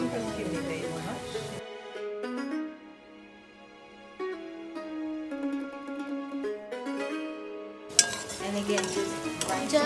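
Indian seasonings and chili paste sizzle and fry in a pan while being stirred, a close steady frying hiss with occasional utensil scrapes and clinks, over background music.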